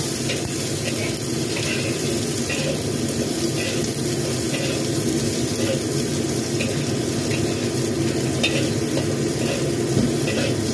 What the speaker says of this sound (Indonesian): kita tumis dulu jagung mudanya teman-teman, tumis hingga sampai dengan layu